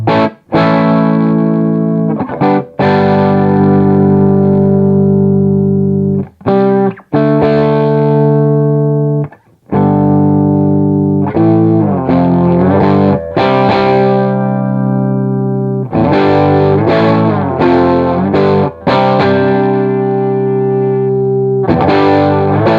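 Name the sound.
electric guitar through 1967 Marshall Super Lead amplifier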